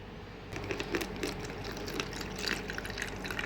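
Vinegar poured and stirred into food colouring in a glass, a soft trickle and light liquid splashing with faint clinks, close and fairly quiet.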